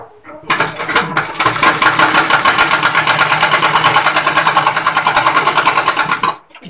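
A tailor's sewing machine runs thread around the edge of a suit, a loud, close, continuous rapid mechanical whirr that starts abruptly after a short pause and stops just as suddenly near the end.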